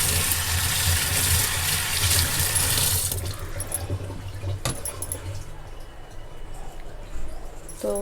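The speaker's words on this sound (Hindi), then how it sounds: "तो मैं इसे थोड़ा धो लूँगी।" Running tap water pours into a sink while something is washed under it, a steady hiss for a few seconds that then thins to quieter trickling and handling sounds.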